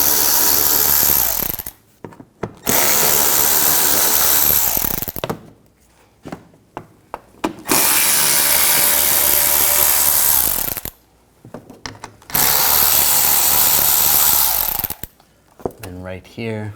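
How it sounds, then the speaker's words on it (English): A hand ratchet and 10mm socket loosen a nut under a 2009-2013 BMW 328i xDrive 3.0L L6, sounding as several long bursts of rapid, loud clicking close by, separated by short pauses. "Use a 10mm socket. Just take that nut off."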